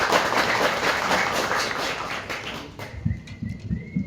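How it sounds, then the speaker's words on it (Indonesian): Group of trainees clapping together at a youth disaster-response training camp in Temanggung, dense applause for under three seconds that then breaks up into a few scattered claps and thumps. "Tepuk tangan semua."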